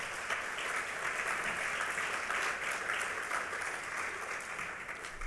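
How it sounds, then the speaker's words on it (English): Audience applause at a conference opening session, dense steady clapping from a crowd with an even level throughout and no voices above it. "let's give them a hand"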